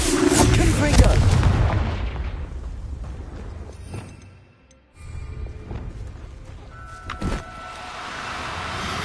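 Confringo blasting spell explosions in the Hogwarts Legacy video game on PS5: a loud, dense burst of blasts up front that fades into quiet, then renewed rumbling and a sharp crack amid ongoing game ambience.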